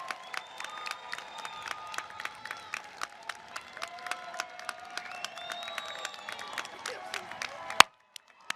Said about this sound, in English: give them a round of applause, but you knew what to do